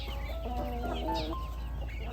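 A chicken clucks and murmurs in a series of short, wavering calls, fairly close, over a low steady background rumble.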